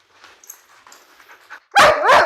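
A dog barks twice in quick succession, loud and close, during impulse control training, after a stretch of quieter background sounds.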